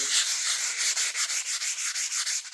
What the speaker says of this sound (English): almost like you're wet sanding it. Just rub that right in there real good.